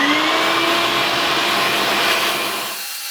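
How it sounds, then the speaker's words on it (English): A vacuum cleaner roars loudly and steadily up close, sucking chaff out near a Corvette cylinder head, its whine holding constant before the motor fades slightly near the end. "I'm gonna vacuum all this chaff out of here too"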